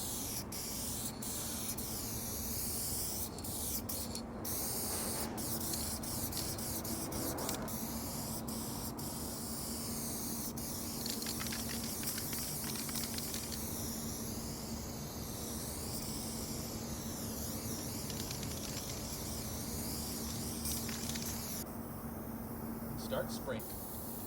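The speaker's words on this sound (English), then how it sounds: "with the level 1 cap, you get a much more controllable spray" A Montana spray paint can fitted with a level 1 cap gives a long, steady, controlled hiss with brief pauses and restarts, close to the listener, while a person speaks over it.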